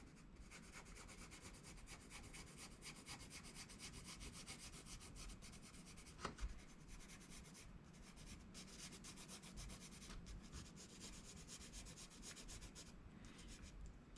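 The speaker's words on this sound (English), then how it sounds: "And we'll just use the pencil" Continuous soft rubbing of a pencil shading on paper, steady scratchy strokes heard close and faint with no talking.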